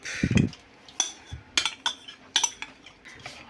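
A whisk stirs jelly into a diet dessert mixture in a bowl, giving a series of sharp, close clinks and taps of metal against the bowl at an uneven rhythm, with no talking.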